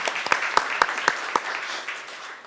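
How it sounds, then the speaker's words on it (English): A small group at a city council meeting gives a short round of applause, a few distinct, fairly close claps at first that blend into lighter clapping and taper off within a couple of seconds. "And we'll give him a round of applause."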